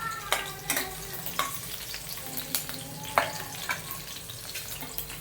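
Finely chopped green chilies frying in two spoons of oil for a quick fried rice, with a steady sizzle under a scatter of sharp spoon taps and stirring clinks close to the pan, and no one speaking.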